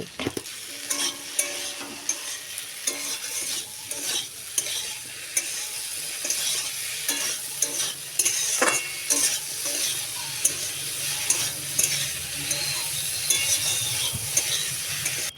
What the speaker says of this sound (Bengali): লবণ দিয়ে আবারও মিশিয়ে নেব